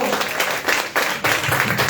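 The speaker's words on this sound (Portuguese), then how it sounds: "Você pode aplaudir o Senhor." Church congregation clapping together after a prayer, a dense steady patter of many hands that surges in waves, with a voice briefly rising over it.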